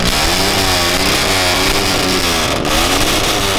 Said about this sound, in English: Oh, those are revving